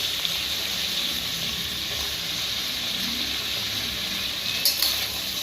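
Mixed vegetables, among them drumstick, carrot, potato, raw plantain and eggplant, fry in oil for Tirunelveli koottanchoru, giving a steady, even sizzle and hiss throughout with a brief louder crackle near the end and no voices.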